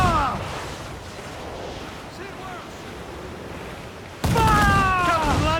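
Ship cannons firing a broadside in Assassin's Creed IV Black Flag, heavy booming volleys over surf and wind at sea, with a loud burst near the end and shouting crew voices.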